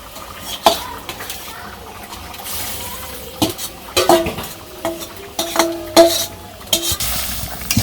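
Eggs and spice paste are stirred into a curry in a pan, with a spoon scraping and clinking against the metal in irregular taps over a soft background sizzle.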